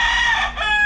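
A gamecock held in hand crows at close range, one loud, strained, sustained call lasting about a second, with no voices over it.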